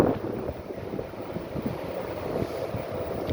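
A boat tender out on the sea, with steady wind buffeting the microphone over a low rumble of water and engine.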